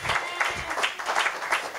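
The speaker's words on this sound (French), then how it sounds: "Applaudissez pour la gloire de Dieu" A church congregation applauds during a Sunday service, a brief burst of many hands clapping in an uneven, pulsing rhythm at a moderate level.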